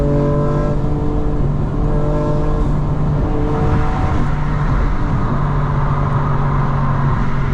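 A modified 2025 BMW M4 Competition xDrive engine downshifts, heard from the driver's seat as a steady loud engine drone with stepped pitch changes and revs that rise and fall through the gears.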